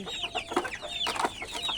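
Chickens clucking close by, a quick run of overlapping short clucks and squawks from several birds in a backyard flock during rainy weather, with no talk.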